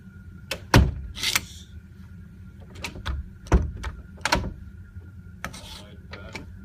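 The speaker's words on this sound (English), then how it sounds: "Again, close the door." An inside door fitted with a KidLock sliding latch is pushed shut and worked several times, giving sharp wooden thumps and clacks with scraping slides of the latch in between, close and otherwise quiet.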